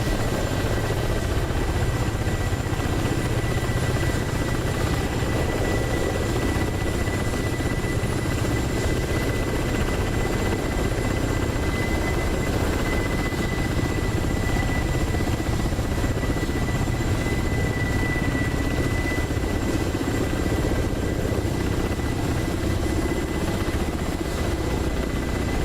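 Helicopter rotor blades in the DCS flight simulator game make a loud, unbroken whirring drone with a steady engine whine that holds even for the whole stretch, with no talking.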